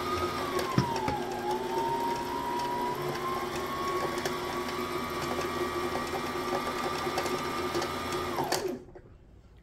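A Brother SM2700 sewing machine runs continuously with a steady whirring hum that dips slightly in pitch early on, then stops abruptly near the end, leaving near silence.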